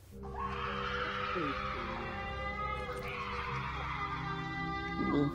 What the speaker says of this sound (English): the bobcat horrifyingly opens its mouth and then begins screaming like a person